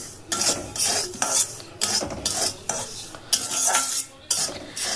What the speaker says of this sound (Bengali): ঘি দিয়ে আবার একটুখানি নাড়াচাড়া করে নেব